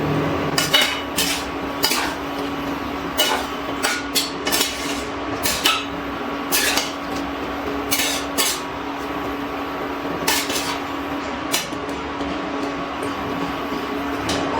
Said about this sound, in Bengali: জল দিয়ে খুব ভালো করে মিশিয়ে নিচ্ছি